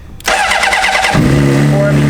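A Honda CBR600 sport motorcycle cranks briefly and fires up at once, settling into a loud, steady idle close to the listener.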